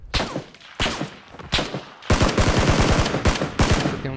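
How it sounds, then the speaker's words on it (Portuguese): Gunfire in the video game PUBG Battlegrounds: several sharp single shots spaced apart, then rapid automatic bursts of loud, close firing in quick rhythmic succession. "o cara que me viu aqui atirou em mim"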